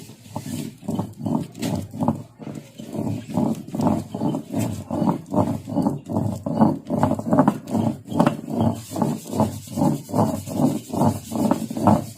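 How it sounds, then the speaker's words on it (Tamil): A mixer grinder churns aloe vera with a loud, rhythmic pulsing grind that repeats steadily throughout, with no talking. "இந்த கற்றாழை இதையும் சேர்த்து அரைச்சி எடுத்துக்கலாம்"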